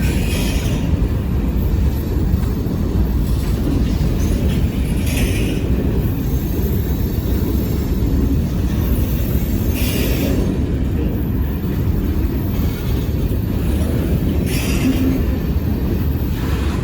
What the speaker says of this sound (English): Looks like there's going to be another train going through on the other track to go south